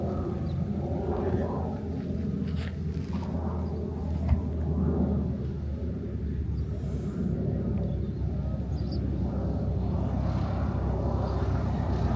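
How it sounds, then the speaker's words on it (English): A light aircraft passes over an airfield near Cape Town, a steady low engine rumble and drone continuing at moderate distance throughout, with faint background noise and no clear talk. "And there's the Cape Town International traffic above the airfield."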